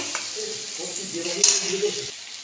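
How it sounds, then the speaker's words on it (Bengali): Onion and garlic frying in a pan while a spicy red chilli mash is being cooked, giving a steady close sizzle throughout with a few faint utensil sounds. "পেঁয়াজটা হালকা ভাজা ভাজা হবে।"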